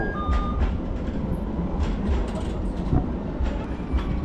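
A steady low rumble of a tram in motion in Istanbul with rattling and clanks, a couple of brief beeps near the start.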